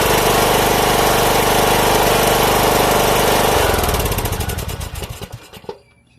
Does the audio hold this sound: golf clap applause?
no